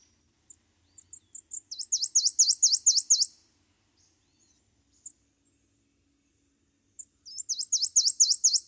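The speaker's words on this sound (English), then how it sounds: "if you hear a song like that, it's going to be a prothonotary" A prothonotary warbler from swampy riparian habitat sings two bright runs of rapid, repeated sweet notes, each building from a few scattered chips, separated by a few seconds of near silence and heard up close with no talk.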